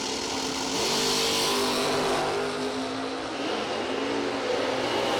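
Drag racing cars, a Camaro and a Roadster, launch and roar down the track at a million-dollar event, with loud, sustained engine noise rising in pitch as they accelerate.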